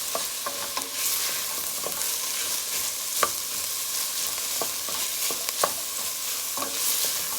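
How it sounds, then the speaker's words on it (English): Cranberries cooking in a pot for a Christmas dinner dish, a steady sizzle with repeated scraping spoon strokes as they are stirred, close and continuous with no talking. "now I'm going to add my cranberry, just so that it will soften up a little"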